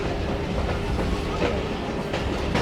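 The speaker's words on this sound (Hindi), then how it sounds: "मुझे तो लग रहा है कि मेन प्लेटफॉर्म की तरफ से बढ़ रही है ट्रेन" A train rolls into a station platform on a Pakistani railway line, a steady close rumble of wheels and carriages with faint rhythmic clatter throughout.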